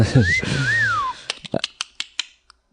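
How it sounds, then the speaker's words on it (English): A close, rising-and-falling wolf whistle, followed by a quick series of sharp snaps or clicks. "I'm not allowed to whistle at my own picture."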